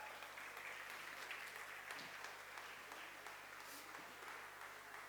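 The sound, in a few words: audience applause for the men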